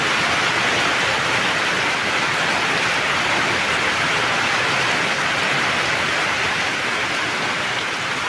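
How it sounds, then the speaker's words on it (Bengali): Steady heavy rain falls at a house, a dense, even hiss that holds loud and unbroken from start to finish with no voices. "এই দেখো কেমন বৃষ্টি পড়ছে।"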